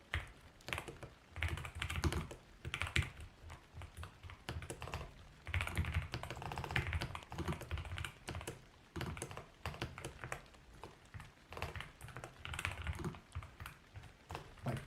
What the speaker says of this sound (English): my keyboard wouldn't double type.